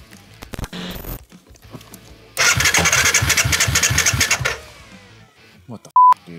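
A Kawasaki KFX450R ATV engine with a suspected dirty carburetor cranks over with a rhythmic chugging starter sound for about two seconds, then cuts out. Brief clicks come before it and a short electronic beep follows, all close and loud.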